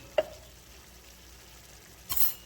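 Spoon scraping through stuffed Doritos filling in a pan, with one sharp tap near the start and a brief louder scrape and sizzle near the end, close and quiet.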